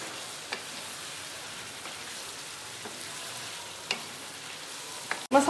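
Spices with black pepper are fried and stirred for a chicken gravy, giving a soft, steady sizzle with occasional light spoon taps and a louder clatter at the end.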